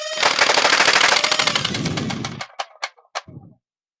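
A Nerf Super Stryfe blaster in a custom build fires darts in a fast, loud full-auto burst lasting over two seconds, then a few separate spaced shots follow as it winds down, close up with no talk.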